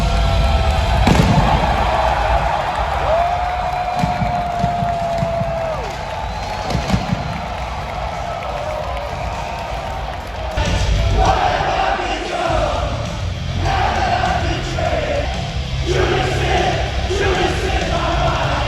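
Pro wrestling crowd inside a San Antonio arena, a dense, loud roar of cheering and shouting that swells and shifts in waves, with scattered yells and voices throughout the whole stretch.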